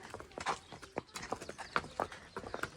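Two mares walk along with an uneven patter of hoof clip-clops, several overlapping strikes per second, close by and moderately quiet.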